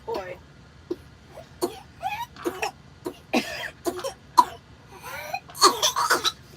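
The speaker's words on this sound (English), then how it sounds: "As she was coughing, she was farting the whole time." A girl coughs repeatedly in short, irregular bursts, some raspy and throaty, fairly close, with quiet pauses between fits.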